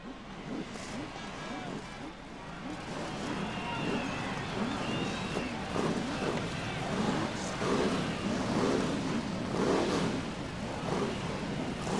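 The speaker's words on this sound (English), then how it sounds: "Start your engines." BriSCA Formula 1 stock car engines roar to life at Bradford raceway, a dense rising snarl of many motors revving together that swells and holds loud, with crowd murmur and announcer-like voices underneath.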